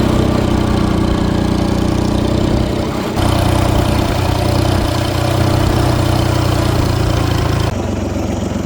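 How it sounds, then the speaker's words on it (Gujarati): A tractor engine runs continuously at a loud, steady idle with a low knocking drone, close by and without a break. "હમણાં આપણે ટ્રેક્ટર લઈને નીકળી ગયા એક બીજી વાડીએ જવા સારું"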